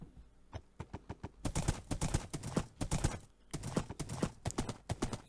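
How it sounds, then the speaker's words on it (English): A fast horse gallops in Minecraft, with quick clip-clop hoofbeats in a steady rhythm, sparse at first and then dense bursts, fairly quiet and alone. "Yeah, this is pretty fast horse."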